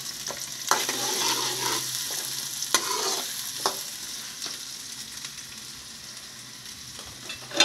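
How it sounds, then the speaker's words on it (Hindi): Onions and tomatoes frying in a pan, a constant hiss of sizzling oil with irregular scraping and clattering stirs, close up and without talk. "हमने टमाटर डाल, ये प्याज डाल दिए दो अदद"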